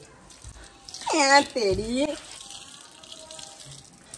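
Clothes being washed under running tap water, a steady gushing stream heard beneath loud nearby talk and a voice, continuing faintly after the talk drops.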